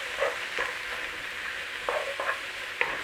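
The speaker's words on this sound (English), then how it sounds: "We want a little bit of that moisture cooking out of these mushrooms." Mushrooms fry in a pan with paprika, a steady soft sizzle running throughout, while a utensil stirs them with a few light scrapes at irregular moments.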